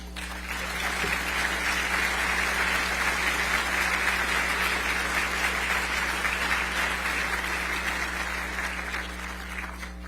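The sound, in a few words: audience applause welcoming a lecturer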